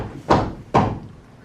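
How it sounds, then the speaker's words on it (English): Two firm knocks at a door in a staged speech-team performance, each a loud, close thunk about half a second apart, followed by quiet. "He was startled by a knock at the door"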